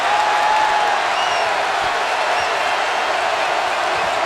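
A basketball arena crowd roars in a steady, dense wash of cheering and applause during a Texas game, holding loud and even for the whole stretch without letup.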